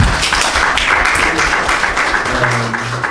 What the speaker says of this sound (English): Can we clap for him, please?